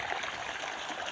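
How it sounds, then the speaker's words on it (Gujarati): Irrigation water flowing steadily through a groundnut field, a continuous close trickling and rushing stream with no talk over it. "આપણે મગફળીમાં પાણી હાલે"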